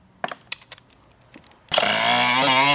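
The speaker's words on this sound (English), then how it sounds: "the tool I'm going to use is this sick cordless die grinder from Milwaukee" Milwaukee cordless die grinder, first a few scattered clicks and handling taps, then the motor spins up to a loud, sustained high-pitched whine close by.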